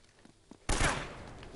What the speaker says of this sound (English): They're shooting at you twice.